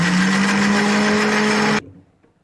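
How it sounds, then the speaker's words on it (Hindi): A juicer blender whirs loud and steady while blending chicken mayo spread, then cuts off abruptly, leaving near silence with a faint clatter. "अब इसको हम ब्लेंड करेंगे। व्यूअर्स, ये मैंने जूसर ब्लेंडर सेट कर लिया।"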